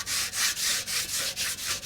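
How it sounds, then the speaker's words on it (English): A Scotch-Brite pad scrubs a vintage motorcycle in quick, rhythmic back-and-forth strokes, about four per second, each a close, scratchy rasp. "I'm going to go ahead and use this Scotch-Brite"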